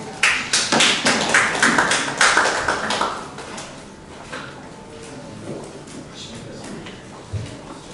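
Applause from an audience at a Korean political forum lecture: a burst of scattered hand claps for about three seconds that thins and fades into quiet room noise.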